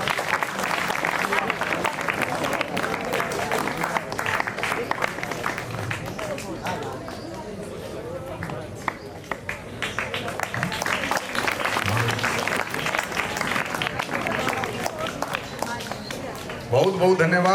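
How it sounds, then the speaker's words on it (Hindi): Students clap loudly at a school Independence Day ceremony, a dense, sustained applause filling the whole stretch, mixed with crowd babble and a voice heard over it. "बेटे जोरदार तालियां।"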